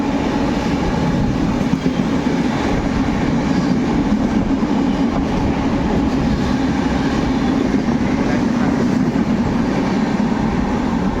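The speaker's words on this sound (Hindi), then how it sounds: "जा रही है ट्रेन" At a station in Ahmedabad, a train rumbles loudly and continuously close by, a dense steady roar of wheels and carriages that barely changes over the whole stretch.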